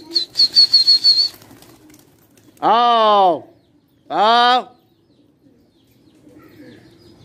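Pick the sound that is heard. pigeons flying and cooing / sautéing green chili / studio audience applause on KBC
pigeons flying and cooing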